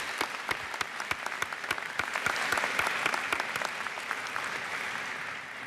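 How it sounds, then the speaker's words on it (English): Audience at a University of Winnipeg autumn convocation claps steadily throughout, many sharp individual claps rising into a dense, fairly distant ovation that swells in the middle and tapers slightly at the end. "Give yourselves a hand of applause, please."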